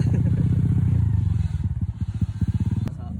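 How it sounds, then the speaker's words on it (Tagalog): An enduro motorcycle engine on a hard enduro trail ride revs in a steady high drone, then breaks into choppy, pulsing throttle blips up close, with a sharp click near the end. "Sa motor talaga, ayan oh. Pumapower si Master Johnny."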